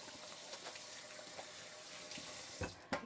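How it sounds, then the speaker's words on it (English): Tap water running into a sink while hands are washed, a soft steady stream heard fairly quietly with a couple of brief splashes near the end. "So just let me go and wash my hands."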